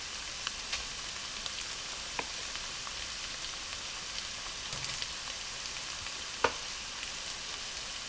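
Two tablespoons of butter melt in a pan for shepherd's pie, a faint, even hissing sizzle with a few small pops and one sharper tap, heard alone.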